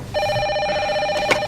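Telephone bell ringing for an incoming phone call in an office networking activity: a steady electronic ring with bright harmonic tones, continuous for about a second and a half, close and clear with no talk over it.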